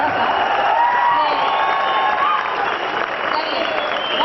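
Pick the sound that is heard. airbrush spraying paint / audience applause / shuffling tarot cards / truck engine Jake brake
audience applause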